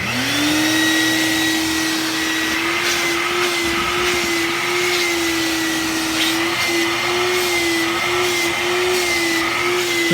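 A Shop Vac 500X one-gallon, one-horsepower mini wet/dry vacuum runs close by with a steady, loud motor whine and an airy rush that holds constant throughout, with no voices.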